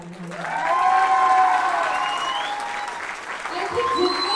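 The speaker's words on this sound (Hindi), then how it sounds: "तो एक बार सर के लिए जोरदार तालियां।" A crowd claps steadily at a grand makeup launch event, the applause continuous and fairly loud, with a voice and some cheering rising over it.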